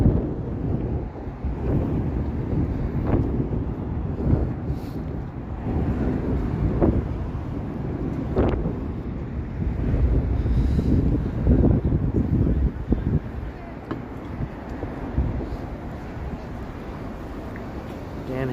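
Wind buffets a microphone along University Avenue in Toronto on a cold evening, a steady rumbling roar with gusty surges throughout, close and loud.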